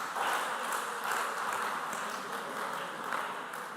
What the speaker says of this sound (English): I think I deserve a round of applause too